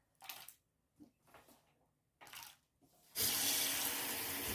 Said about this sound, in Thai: เอา ไอ้เจ้ามันฝรั่งเล็กๆพวกนี้นะคะไปล้างน้ำนะคะ